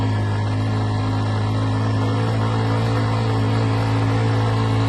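A two-up scooter engine labours in first gear up a steep ghat climb near Lonavala, a loud, constant droning hum with heavy wind rush and no let-up throughout.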